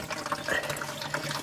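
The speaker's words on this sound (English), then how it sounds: "It's all water. I mean, it's coming out like 9 places." Water pours and trickles steadily out of a flooded skidder, a continuous close splashing flow with small bubbling gurgles.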